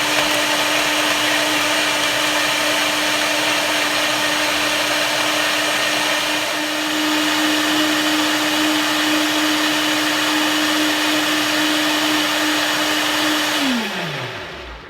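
A blender runs continuously at close range making a banana smoothie, a loud steady motor whine with a sustained tone that holds for about thirteen seconds, then winds down as the motor stops near the end.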